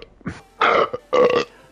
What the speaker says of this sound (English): if y'all hear a burp and y'all don't like the noise, blame him